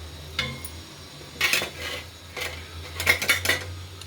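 Metal lid lifted off a cooking pot of rava upma, a few bright clanks and scrapes of metal on metal scattered over a few seconds, close and fairly loud.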